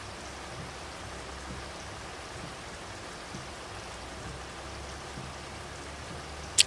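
Steady rain falls in a Farming Simulator game, an even, soft patter of drops with a faint low rumble beneath and one sharp click at the very end.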